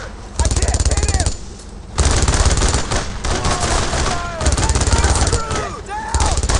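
Dense machine-gun and rifle fire rattles loud and close in the WWII shooter Brothers in Arms: Road to Hill 30, in sustained bursts with brief gaps, while soldiers shout over the shooting.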